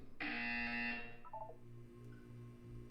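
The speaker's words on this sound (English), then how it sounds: "You will hear a buzzer." A loud, steady electronic buzzer from the video game Portal 2 drones for about a second, then cuts off, leaving a few soft beeping tones over a low background hum.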